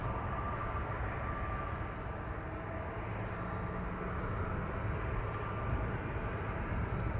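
An SAS Cargo Airbus A330-200 moves at Amsterdam Schiphol Airport, its engines producing a steady, broad jet roar at moderate distance, unbroken throughout and with no voices.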